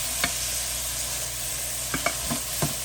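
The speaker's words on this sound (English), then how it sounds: "we're just going to let this saute for another couple minutes" Mushrooms and beef sauté in a pan for a breakfast quiche, giving a steady close sizzle broken by a few quick spatula taps and scrapes toward the end, with no one speaking.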